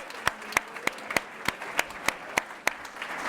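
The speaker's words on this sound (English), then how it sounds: "How about a nice round of applause for Mr. Fred Barber nonetheless?" A small press-conference audience gives a sparse round of applause, distinct claps landing in a slow, even rhythm, close and moderately loud.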